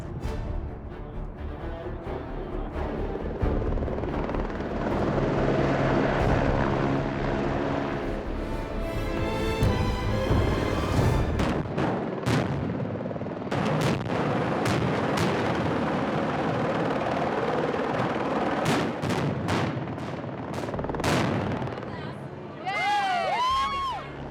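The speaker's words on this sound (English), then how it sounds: "We just got to just stand here and watch a huge, awesome explosion." Heavy booming blasts from a large explosion roll through a long stretch, with crowd noise and shouting mixed in, ending in scattered high whistling tones.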